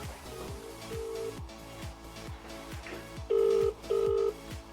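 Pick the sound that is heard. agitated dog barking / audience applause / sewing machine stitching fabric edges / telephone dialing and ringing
telephone dialing and ringing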